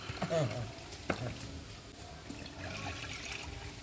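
Leftover rice-washing water poured into a cooking pot, a soft, close trickle and slosh that starts with a brief splash and then settles into a quiet, steady flow.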